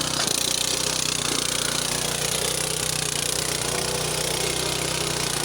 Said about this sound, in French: Là, maintenant, il va démarrer le labour.